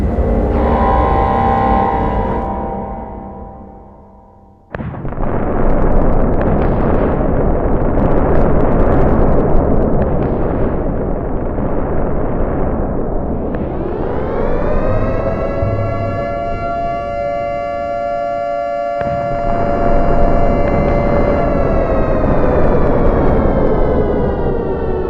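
A loud, sustained explosion rumble fills the air, and an air-raid-style siren then rises and holds a steady wail over the roar through the second half.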